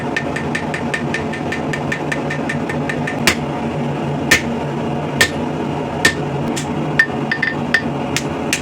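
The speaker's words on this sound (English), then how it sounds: "Then we'll just take a ball peen, give it a little bit of character." A ball peen hammer strikes hot steel on a rivet header tool made from scrap steel, landing spaced metallic blows over a steady mechanical hum, with quick light taps at first and heavier hits later.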